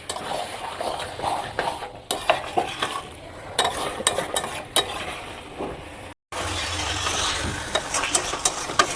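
Chicken curry spice paste being stirred and fried in a pan on a gas flame: a constant close sizzle with repeated scraping and clinking of a spatula on metal, a brief dropout partway through, no talk.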